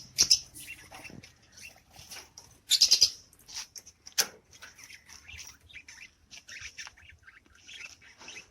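Short, high-pitched African lovebird chirps come in scattered bursts, with a few louder squeaky calls standing out over quieter chattering nearby.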